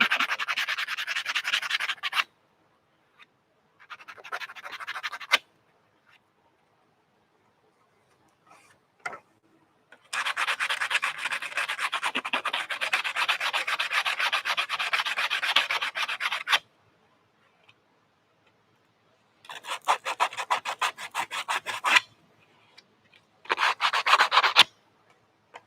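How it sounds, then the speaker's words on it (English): Edges of Stormtrooper armor parts being sanded, rapid scratchy back-and-forth rasping in several long bursts separated by silent pauses, close and clear with no talk. "Still like to sand the edges. Flatten it all out."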